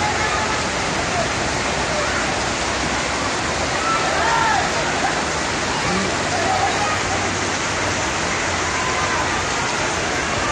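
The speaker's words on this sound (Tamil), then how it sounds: "ஹைதராபாத்தில் பெய்து வரும் கனமழையால் வீதிகளில் வெள்ளம் கரைபுரண்டு ஓடுகிறது." Floodwater from heavy rain rushes through city streets in Hyderabad, a loud, dense, unbroken roar like a torrent, with faint indistinct voices buried underneath.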